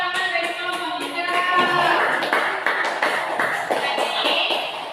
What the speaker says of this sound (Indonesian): Berikan tepuk tangan dari kelompok 3.